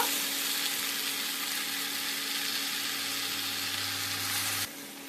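Potatoes and bethua leaves fry in a pan with a steady, dense sizzle close by. A low hum runs underneath, and the sound drops off abruptly near the end.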